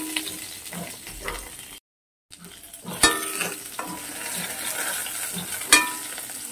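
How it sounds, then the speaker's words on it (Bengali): Pieces of pointed gourd (potol) frying in hot oil, with a steady close sizzle broken by a short gap and sharp clinks of a spatula stirring the pan. "পটলটাকে খুব ভালো করে ভেজে দেবো"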